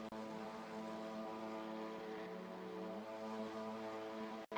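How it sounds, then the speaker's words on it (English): Race car engines in the SimSpeed Fun Cup sim racing game hum steadily at the start, a dense sustained drone with stacked harmonics and a slight pitch shift midway, holding continuous and moderately loud until a brief cut near the end. "As the engines roar to life"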